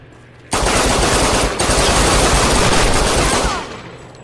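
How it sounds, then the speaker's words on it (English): Loud, rapid automatic gunfire from the Tomb Raider video game on PS4, fired with a modded controller, pours out in one continuous burst for about three seconds before fading. "Now I'm going to shoot it."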